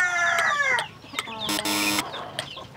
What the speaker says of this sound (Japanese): 正解はホロホロ鳥です。